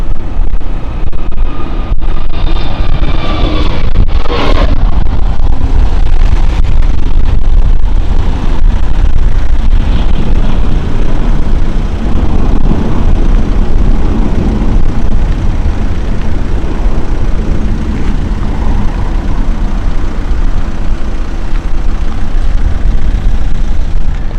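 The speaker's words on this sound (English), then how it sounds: "So this is the Airbus A321neo of TAP going out Tel Aviv flight." A TAP Airbus A321neo airliner departs Lisbon Airport, its jet engines making a loud, steady broadband roar close by that holds constant throughout, with no talking.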